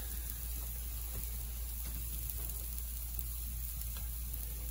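Banana pancakes sizzling in a pan, a soft, steady frying hiss heard quietly and alone without talk.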